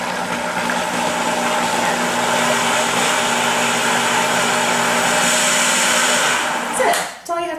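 A kitchen blender whirs steadily, blending salad dressing for a spring kale salad into an emulsion; the loud, even motor drone runs for about seven seconds, then cuts off abruptly with a brief clatter.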